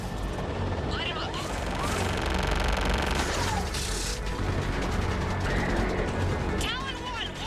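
Sustained gunfire and mechanical weapon clatter from the video game Mass Effect 3, dense bursts layered with whooshes and effects while voices speak over the fighting.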